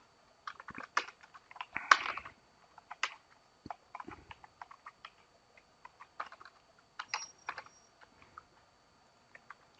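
Code being typed on a computer keyboard, with quick irregular bursts of clicking keystrokes separated by short pauses, close and fairly quiet against a silent background.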